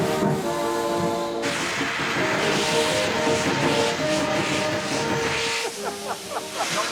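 A steam locomotive hisses loudly and continuously from its open drain cocks, a broad roaring rush of steam close by with mechanical clanks underneath and a fading tail near the end.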